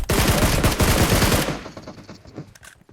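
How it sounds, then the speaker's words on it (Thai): A loud, close burst of rapid automatic gunfire in the video game PUBG Mobile, sustained for about a second and a half before breaking into a few scattered trailing shots and fading. "ยิงเลยยิงเลยยิงเลย"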